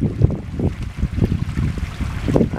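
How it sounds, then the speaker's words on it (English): Outdoors while fishing, gusty wind buffets the microphone in a loud, low, rumbling roar that swells and fades across the whole moment. "And that wind's picking back up."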